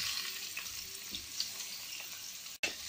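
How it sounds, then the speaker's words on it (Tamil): Boiled yam hitting hot oil in a kadai, a soft even sizzle close by with light crackles, broken by a sharp momentary drop near the end before the frying resumes. "எண்ணெய் காஞ்ச உடனே நம்ம வேக வச்சுருக்கிற சேனக்கிழங்கு அதில் போட்டுடலாம்."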